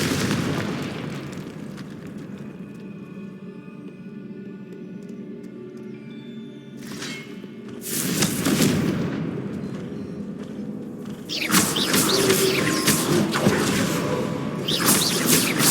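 Explosive blasts from the Confringo spell in the video game Hogwarts Legacy: a low rumbling bed breaks into a loud burst around the middle, followed by further heavy booming bursts near the end.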